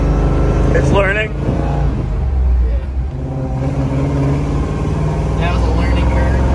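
A car with a newly installed Blueprint engine rumbles with a lumpy, choppy idle-like pulse while being driven, heard from inside the cabin beneath people talking.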